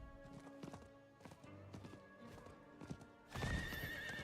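A horse mount in Diablo IV clip-clops along in steady hoofbeats with a whinny, ending in a louder burst of galloping and game effects.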